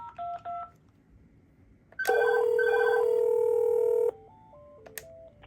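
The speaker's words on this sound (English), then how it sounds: "So we're going to dial again." Touch-tone keypad dialing on an AT&T CL83464 cordless phone: a few quick DTMF beeps, a long steady tone, then a short run of stepped beeps, clear and close with no talking.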